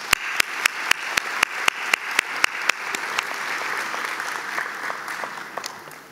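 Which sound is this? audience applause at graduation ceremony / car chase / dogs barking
audience applause at graduation ceremony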